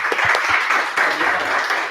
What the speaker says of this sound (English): let's have a round of applause to Anthony Veros.